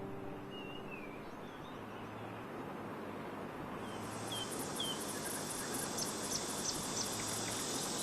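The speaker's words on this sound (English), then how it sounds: "accompanied by the noise of cicadas" A steady, dense buzz of cicadas fills the summer air in Wudang, China, growing more intense partway through, with faint bird chirps and a low background rumble.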